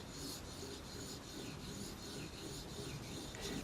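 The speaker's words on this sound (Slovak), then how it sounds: "Stačí nôž položiť plochou stranou na kameň a len ťahať." A Yakut knife is drawn flat across a whetstone, giving steady, close rasping strokes that repeat in an even rhythm without any voice.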